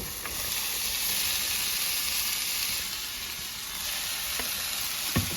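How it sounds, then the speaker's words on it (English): Carrots and beef sizzle steadily in a frying pan with onions for borscht, a continuous close hiss with a few soft stirring knocks and no talking. "I'm gonna fry them like that for some time till they become a bit softer"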